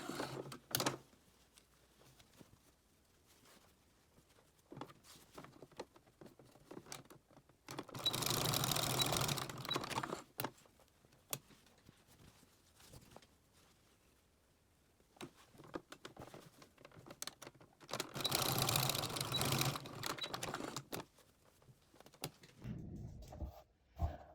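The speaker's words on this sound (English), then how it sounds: "Start with your needle on the fabric, back stitch to the edge, and then back stitch back onto the fabric." A sewing machine back stitches on a fabric placemat with a mitered hem in two distinct runs of rapid stitching, separated by quiet stretches of small handling noises and no speech.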